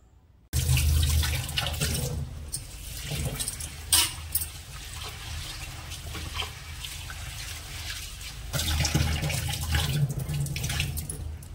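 Jowar, bajra and ragi grains being washed in water, with steady splashing, sloshing and running water that is moderately loud at the start and end and quieter in between.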